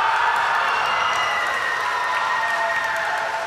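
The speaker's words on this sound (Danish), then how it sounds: "der bliver sørme jublet igen" A crowd cheers and applauds steadily at a school election results broadcast, a dense, loud wash of clapping and shouting with no pauses, gradually fading slightly toward the end.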